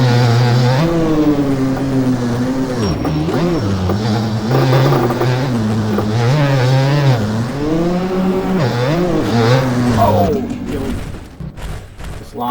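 A 2003 Suzuki RM 250 two-stroke motocross bike engine in MX Bikes on the Walnut track revs hard and continuously, pitch sweeping up and down through gear changes and throttle blips, close and loud, dropping to burbling idle at the end.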